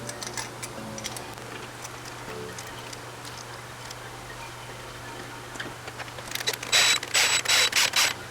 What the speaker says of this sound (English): Here for these clutch bolts, I'm just going to use my 1/4" ratchet, yet again, 10mm socket.